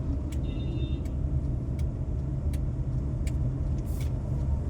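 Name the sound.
lorry driving past on the road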